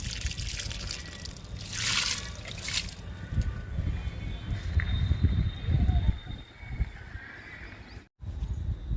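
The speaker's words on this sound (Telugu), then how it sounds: "డబ్బాలో కూడా పోస్తున్నానండి వాటర్." Water pours and gurgles into a container with uneven splashing, close and moderately loud, briefly cutting out near the end.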